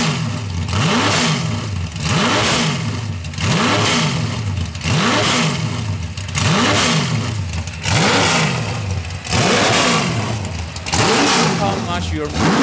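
A Lola T70 race car engine revs hard again and again in a steady rhythm, each loud roar climbing and dropping back, close and dominant throughout.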